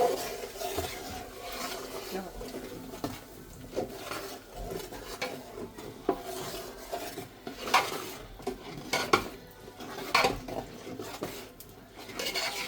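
A utensil scrapes and clinks against a pan while urad flour mixture is stirred, irregular soft scraping strokes with occasional louder metallic knocks, fairly faint and close.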